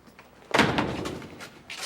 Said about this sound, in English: Would you please close the door?